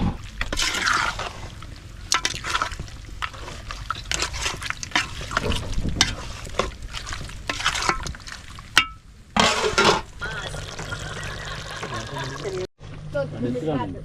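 Sri Lankan chicken curry mixture tipped into a pot and stirred, village cooking outdoors: wet sloshing, scraping and clinking bursts, close and fairly loud, under bits of talk.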